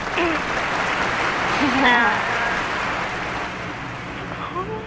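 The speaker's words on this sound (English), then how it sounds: "Give her a clap." A classroom of students gives a short round of clapping for a classmate in an algebra class. The claps run as a steady, moderately loud patter while a voice speaks briefly over them.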